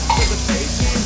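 Mutton pieces frying in hot oil inside a pressure cooker, with a steady sizzle and repeated scraping stirs of a utensil against the metal pot, close and fairly loud.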